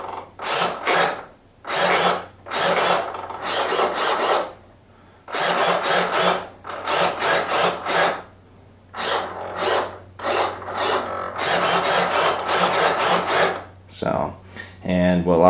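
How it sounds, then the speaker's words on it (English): Servo chatter from a model airplane's elevator control surface comes in rapid, raspy bursts separated by short pauses, close and fairly loud. "most of that chatter that you hear is actually from the elevator, not the aileron"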